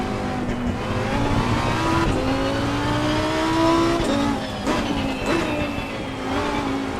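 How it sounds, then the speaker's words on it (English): A Lamborghini race car engine in the racing game Assetto Corsa Competizione at Zandvoort in the rain gives a loud, continuous, high-revving wail. The pitch climbs and drops sharply with each gear change. "Gotta love the sound of this Lamborghini."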